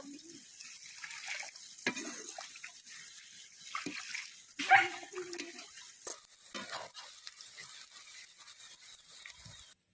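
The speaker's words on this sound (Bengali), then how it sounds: "ভাতের এবার চাল ধুয়ে নেব" Rice is washed in water in a pot, heard as faint swishing and sloshing with soft grains rubbing and an occasional clink or splash. It stays quiet and close, with a brief louder slosh midway and no talking.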